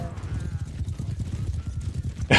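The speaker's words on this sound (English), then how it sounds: "That guy's horse is way faster than my camel." Horse hooves galloping in the Mount & Blade 2: Bannerlord multiplayer video game, a steady rapid clip-clop rhythm repeating throughout a short battle chase, with a louder burst right at the end.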